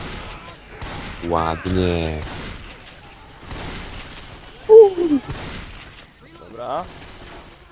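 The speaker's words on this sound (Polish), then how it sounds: "Padły strzały." Gunfire bursts from the video game Left 4 Dead 2, short rattling volleys and booms scattered through the stretch while players talk casually over them.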